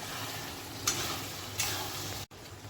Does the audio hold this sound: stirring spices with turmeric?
yes